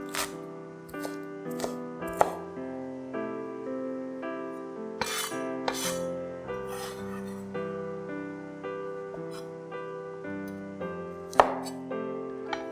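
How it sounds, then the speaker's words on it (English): Knife chopping the green tops of spring onions on a board, a few sharp, irregular chops standing out above steady background music. "Then chop up the top few inches of the green parts and use it for garnishing later."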